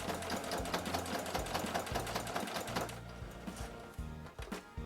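A Kenmore Model 385.16231 sewing machine stitching bias tape on an apron, steady rapid mechanical needle chatter with a few short pauses and restarts, close and clear.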